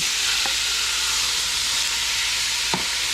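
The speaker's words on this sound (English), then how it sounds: "you want to brown your meat" Beef browns in a large pot for carne guisada with a steady, loud sizzle and hiss and a couple of faint clinks, and no talking.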